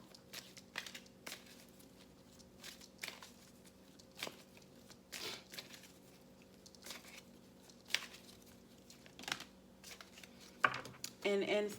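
Cards from a fairy oracle deck being shuffled in soft, irregular riffles and slaps, fairly faint and close, with a low steady hum underneath and a louder rustle near the end.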